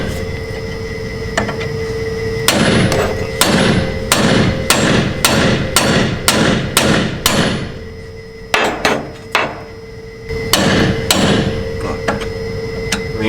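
A hammer delivers a quick series of sharp metallic smacks on a lateral control arm toe adjustment bolt, about a dozen loud close strikes in a rhythmic run, then a pause and a few more blows.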